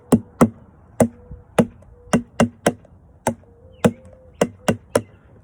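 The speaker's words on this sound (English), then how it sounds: "Different sounds from the same container." Sharp taps on the high and low sides of a single plastic container form a rhythmic pattern of about fifteen crisp, close hits with short pauses between groups.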